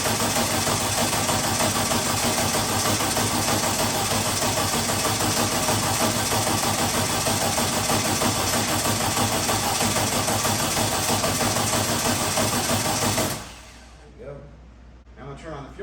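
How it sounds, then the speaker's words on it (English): A VW engine on a dyno cranked over without fuel, giving a loud continuous mechanical churn held close for about thirteen seconds before it abruptly stops into near quiet. "we're just gonna hold the throttle wide open and crank it over until we get pressure"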